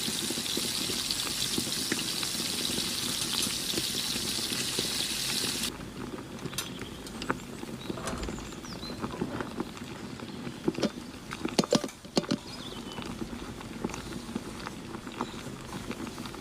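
Chicken wings frying in hot oil in a pan, a steady dense bubbling sizzle that drops to a quieter crackle partway through, with a few sharper clatters of turning and moving the wings.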